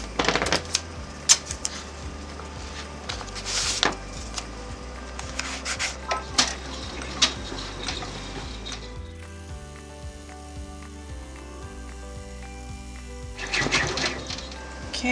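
An embroidery machine stitches a tack-down on a towel topper with rapid, clattering mechanical ticking. The rhythm pauses and shifts partway through, then the machine starts up again, loud and close.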